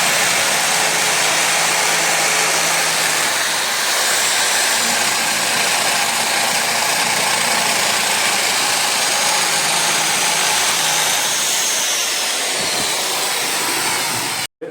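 A power drill bores a hole for a door lock, its motor giving a loud, steady whirring drone that runs without a break for about fourteen seconds before cutting off abruptly.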